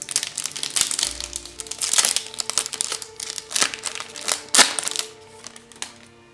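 A card booster pack being torn open and its foil wrapper crinkled close up, with sharp rips and crackling bursts in an uneven rhythm.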